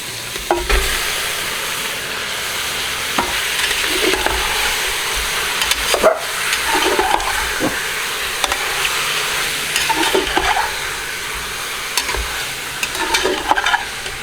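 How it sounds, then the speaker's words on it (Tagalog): Thin squares of beef fry and sizzle in a single pot for a garlic pepper dish, with a steady loud hiss throughout and repeated stirring scrapes and clatters breaking through every second or two. "And let's add our beef."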